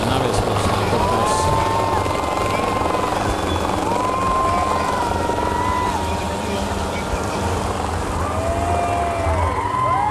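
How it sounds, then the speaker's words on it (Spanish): Helicopters lift off at a September 15 Independence Day parade in Plaza El Salvador del Mundo, their loud rotor drone and passing engine whine continuous over crowd noise while a voice talks across the scene. "despegan las aeronaves, los helicópteros."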